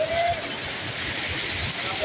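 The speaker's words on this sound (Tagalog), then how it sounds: "Ayan guys, lakas na ulan." Heavy rain pours down in a continuous, dense hiss that stays steady and fairly loud, with low splashing rumbles underneath and no clear talking.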